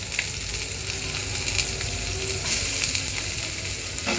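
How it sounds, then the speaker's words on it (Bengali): Chopped onions sizzling steadily in hot oil in a pan after garlic has been fried, cooking for masala Maggi noodles. The close, dense frying hiss holds constant with no pauses, and no one speaks. "এখন রসুনগুলো ভাজা হয়ে গেছে, এখন দিয়ে দিলাম পেঁয়াজ।"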